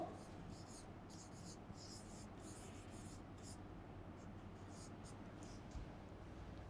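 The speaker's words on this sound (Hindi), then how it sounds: "पहले इतनी बात को लिख लेते हैं" Pen scratching on paper as notes are written during a school social science lesson, heard as quiet, close, rhythmic strokes in short bursts over low background hiss.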